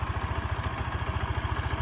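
Yamaha Majesty 155 S scooter engine idling close by, a steady even pulsing putter without extra knocks or rattles.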